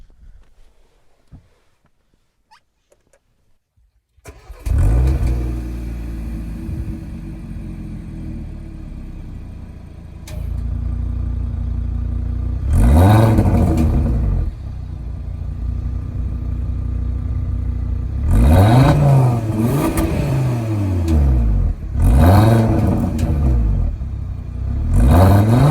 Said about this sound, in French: le 5 cylindres de chez Audi, il fait un joli petit bruit, non?